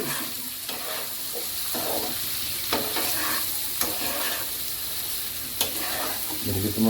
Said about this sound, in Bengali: আলুটা একটু কষান টমেটো